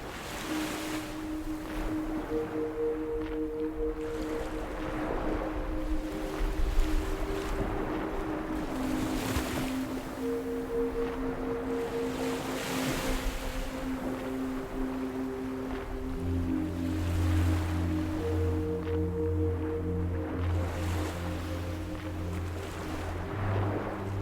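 Ocean waves wash onto a sandy beach at sunset in slow, repeated surges under steady wind noise, with soft sustained music tones entering partway through.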